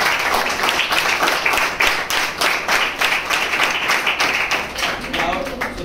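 An audience at a school event for the Satyam Education Foundation breaks into rhythmic clapping, a steady run of sharp, fairly close claps that keeps going throughout.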